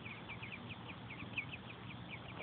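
Small ducklings quacking close by in a rapid, regular series of soft, high calls, faint and continuous with a brief knock near the end.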